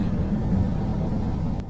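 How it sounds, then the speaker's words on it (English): An LDV Maxus van rolls along a narrow road with a steady low engine rumble and tyre noise, close by and continuous. "Just got to drive on wee roads like this for the first time in the big van."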